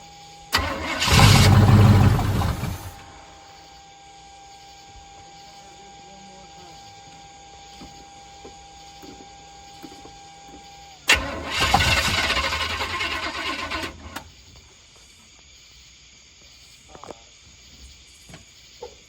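An old car, fed from a small red gas tank after carburetor work, cranks and briefly catches twice, two loud whirring bursts separated by a quieter stretch, then settles to a low hum near the end.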